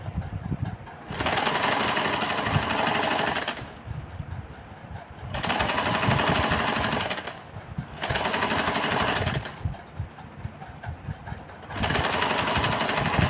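An electric sewing machine stitching a palazzo suit, running in four long steady whirring bursts separated by brief pauses, loud and close.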